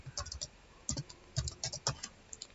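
Keys on a computer keyboard tap in a quick irregular burst of light clicks, close and quiet with no voices.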